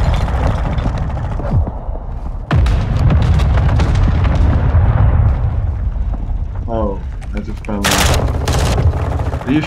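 Rapid automatic gunfire and explosive booms from a Call of Duty Modern Warfare 2 beta multiplayer match, loud and continuous with bursts throughout, mixed with game voice callouts.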